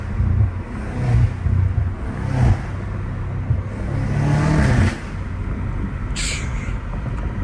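BMW M5 Competition F90 with twin turbos and newly fitted aftermarket intakes, its engine rumbling and revving in a few low swells, with a brief whooshing intake hiss near the end, heard close and without voices.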